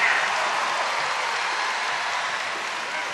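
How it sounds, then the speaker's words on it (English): Volleyball crowd at a Illinois vs. Penn State match breaks into sustained applause and cheering, a dense steady ovation that fills the whole span and fades only slightly at the end. "Bangert will get a nice ovation both from the crowd and from her head coach as she exits."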